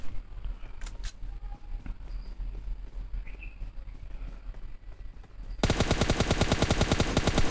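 Rapid automatic gunfire in the PUBG Lite video game, an opponent firing at the player, starting partway through as a loud, dense burst of evenly spaced shots after a quieter stretch of ambient game noise.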